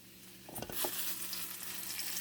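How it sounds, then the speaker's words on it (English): Shrimp hit hot oil and start a steady, crackling sizzle that holds on without talk, with a brief clatter as they drop into the pan. "that's what you want to hear when you're frying up anything. You want some sizzle"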